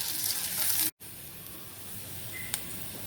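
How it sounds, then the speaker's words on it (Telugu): Garlic and ginger sizzling in hot oil in a pan, a steady close hiss with one abrupt cut and then a slightly quieter continuing sizzle. "అది వేగిపోయినాయి కదా తెల్లగడ్డలు అల్లము."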